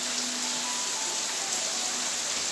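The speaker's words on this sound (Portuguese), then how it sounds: "aqui tá chovendo" Steady rain falls outdoors, a dense, even hiss of drops that holds unchanged throughout, with no voices or other distinct sounds.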